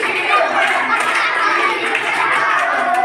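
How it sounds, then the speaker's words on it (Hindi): Children in a class activity clapping their hands together, a dense busy patter of many claps mixed with young voices and chanting throughout. "ताली बजाओ भाई ताली बजाओ"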